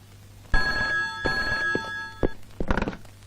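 A new cell phone rings out with a bright electronic tone lasting nearly two seconds, accompanied by thumps and shuffling movement nearby before it cuts off.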